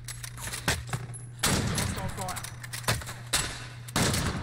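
Rapid bursts of gunfire in a video game shooter, several sharp volleys spaced a second or so apart, loud and close, with a player talking between shots.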